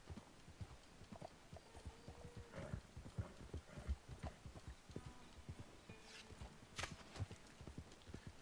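Horse hooves clip-clopping at a steady run in the video game Red Dead Redemption 2, a continuous rhythmic patter of hoofbeats with an occasional faint whinny, heard alone without talk.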